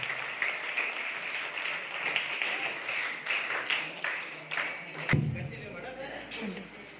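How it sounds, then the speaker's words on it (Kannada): An audience claps steadily for several seconds at a personality development programme in a school, the applause dense and close before cutting off abruptly, followed by quieter room noise. "ತಮ್ಮ ಜೋರಾದ ಚಪ್ಪಾಳೆ ಮುಖಾಂತರ ಮತ್ತೊಂದು ಧನ್ಯವಾದಗಳು"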